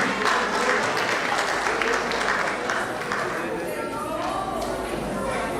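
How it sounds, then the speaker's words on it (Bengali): Audience applause at a Bengali New Year celebration, a steady round of clapping for the overall coordinator, moderately loud throughout with crowd murmur and a voice mixed in. "তার জন্য একটা জোরদার হাততালি দেওয়া হয়"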